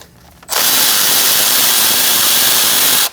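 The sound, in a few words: removing bolt with E10 socket on Mercedes C300 intake manifold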